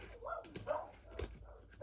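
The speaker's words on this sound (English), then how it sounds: "I'm sure you can hear my puppy dogs in the background. They're going a little crazy right now." Puppies barking and yipping excitedly in the background of a room, several short faint yaps and whimpers scattered across the moment while a person speaks over them.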